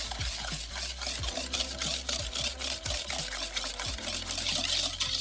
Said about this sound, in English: take the sugar, put it in the bowl, eggs, yolks, grab your whisk, and mix